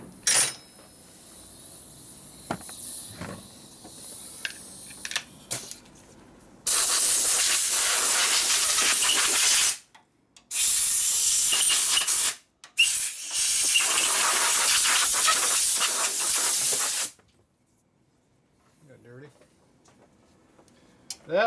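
Compressed air from a nozzle blasts loudly into a 1965 Harley panhead 74ci FLH motorcycle engine in three long hissing bursts separated by short pauses, with faint clicks and talk in the quieter stretches.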